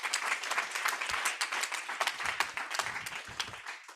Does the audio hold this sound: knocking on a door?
no